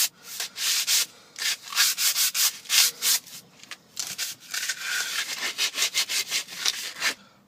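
Hand sanding of an old wooden axe handle, close and loud, in brisk rhythmic back-and-forth strokes of about two per second with short gaps between, then a faster, lighter run of strokes.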